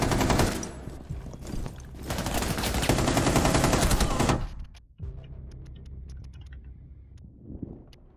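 Rapid automatic gunfire from Rainbow Six Siege, a long loud burst of sustained firing that cuts off abruptly, followed by quieter clicks and game ambience.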